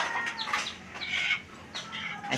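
Several chickens cluck and squawk close by as they are put into their coop on a small farm, loud agitated calls overlapping in quick bursts.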